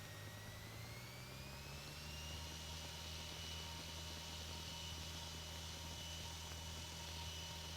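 A Cessna 150 engine powers up for a night takeoff roll, its steady drone rising slightly in pitch and staying fairly faint inside the cabin with no voices.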